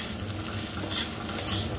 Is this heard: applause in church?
no